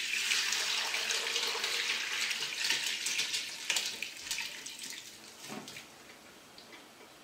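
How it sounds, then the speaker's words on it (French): Cooking water pours steadily out of a pot of cooked beef for beef bourguignon with peas, a loud continuous rush that thins toward the end, with a few small knocks and splashes. "Là, on va égoutter la viande qui est cuite."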